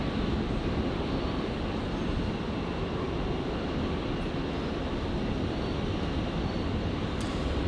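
Qantas airliner taking off from runway 01 left at Brisbane, a steady broad engine roar heard from a distance, sustained and even throughout.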